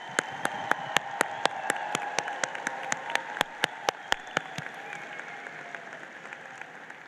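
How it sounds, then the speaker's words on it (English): An audience applauds the graduating class of 2025 at a Salem High School graduation ceremony, a soft wash of crowd clapping with one nearby pair of hands clapping sharply in a steady rhythm before tapering off. "Please join me in giving them a round of applause."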